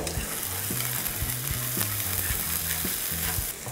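Chopped onion, scallion and garlic stir-fry in a hot pan for a Korean pepper japchae, with a steady sizzle and repeated scraping strokes of a spatula at a quick, regular rhythm, close and alone.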